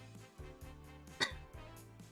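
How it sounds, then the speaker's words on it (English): Someone coughs once, a short sharp burst in the middle of a quiet indoor moment during a casual chatting stream, with soft low background sound around it. "I've been coughing a lot."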